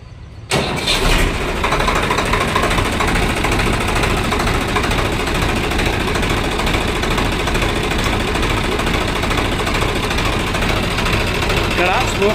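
A motorcycle engine starts after a brief quiet moment, then settles into a steady, loud, close idle that runs without a break to the end, with voices speaking under it.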